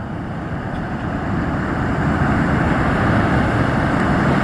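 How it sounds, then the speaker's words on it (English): Powerboat with twin Yamaha outboards, a 660 Bobcat, accelerating onto the plane at sea, producing a steady, loud engine roar with broadband wind and water rush that builds slightly and holds. "bringing the 660 Bobcat onto a plane."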